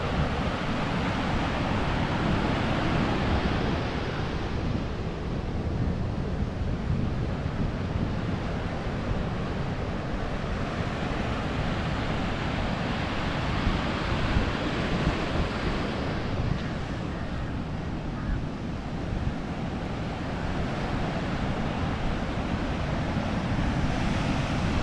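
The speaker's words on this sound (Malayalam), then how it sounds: "കടലിങ്ങനെ കുഴിച്ച് ഇപ്പോൾ കുഴിപ്പൻ തിരമാലകളാണ് കുറച്ച് ദിവസമായിട്ട്." Heavy sea waves wash over an eroding sand beach in a continuous roaring surf, with strong wind buffeting throughout and no voices.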